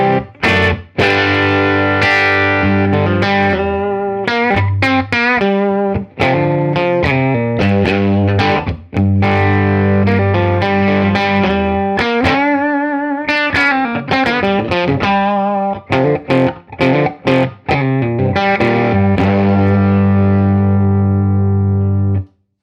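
An electric guitar plays through a Rocknroll Amps Twanker 5E3 amplifier with the master volume turned all the way up, giving loud, gritty, distorted notes and chords in a continuous phrase that rings out alone.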